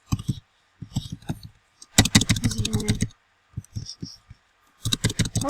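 A computer keyboard taps out a password in clicky clusters, a quick dense run in the middle and scattered keystrokes around it. The typing is close and moderately quiet, with short pauses between bursts.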